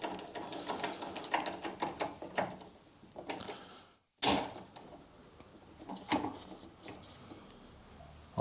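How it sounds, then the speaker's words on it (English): A ratchet clicks in short bursts while tightening a wiper motor bolt on a 2010 Honda Jazz 1.2 petrol, close up, with mechanical rattling and a brief pause midway. "Nip up this wiper motor bolt down there."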